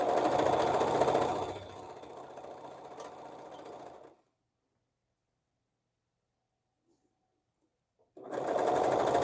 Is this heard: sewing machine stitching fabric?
yes